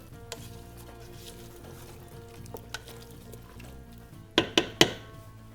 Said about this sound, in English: Let's give this a nice little stir here.